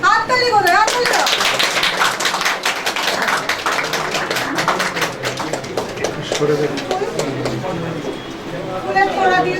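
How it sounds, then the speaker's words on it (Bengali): Audience applause at a welcome and felicitation ceremony, a dense crackle of many hands clapping steadily for the whole stretch, with people talking over it. "হাততালি কোথায়? হাততালি দাও।"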